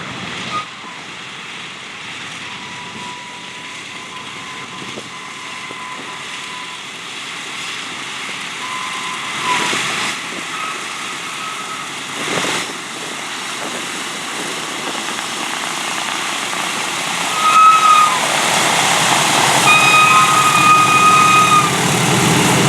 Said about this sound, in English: give them a big wave and a round of applause for the B-17, part of our bomber display